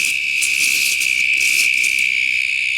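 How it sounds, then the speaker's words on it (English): Crickets chirp loudly and continuously in a vegetable garden in Victoria, Australia, in March, a dense high-pitched pulsing drone that fills the whole moment, with no voices over it. "I'm competing with the crickets here."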